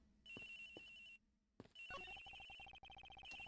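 A telephone rings in the video game Ace Attorney Investigations: Miles Edgeworth, with electronic trilling bursts broken by a short pause, then a rapid repeating electronic ring, clear and alone.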